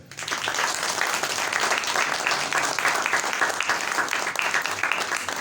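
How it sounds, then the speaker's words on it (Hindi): A church congregation bursts into loud, dense, sustained applause during a sermon, steady and close throughout. "उस यीशु के जोरदार तालियां"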